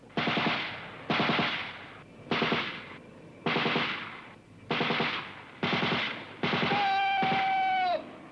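A machine gun group fires in a military exercise: seven sharp bursts in a steady rhythm, each cut off by a short pause, loud and near, with a whistle-like tone over the last burst.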